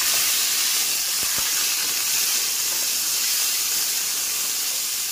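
Marinated pork fries in hot oil in a wok, a loud, continuous broad hiss of sizzling steam with a couple of faint clicks, no talking.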